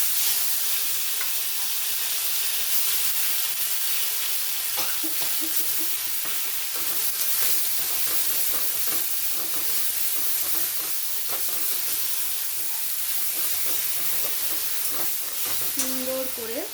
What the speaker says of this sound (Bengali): সুন্দর করে আমার মতো করে ভালো করে কড়াইতে নাড়াচাড়া করতে হবে।